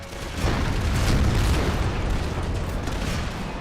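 Artillery fire in Empire: Total War, a deep booming blast that swells and rumbles out over a few seconds, loud and low, with no voices.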